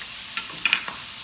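Soft, steady sizzling of ginger frying in a pan, with a few light stirring clicks.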